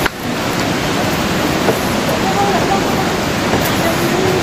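Sikulikap waterfall near Berastagi, Doulu village, gives a steady broadband rush of falling water heard from some distance. A brief faint tone and light clicks sit under it.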